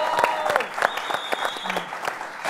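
Studio audience applause on a music TV program, a short burst of scattered, uneven clapping with a few sharp claps and faint whoops over about two and a half seconds.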